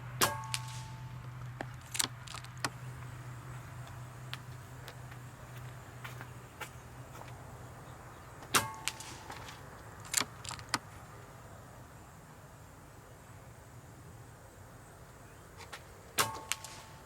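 Shots from a Daystate Pulsar .22 PCP air rifle fired outdoors in a light crosswind: about eight sharp, separate cracks spread unevenly over quiet background hiss, with a few faint metallic clicks between them.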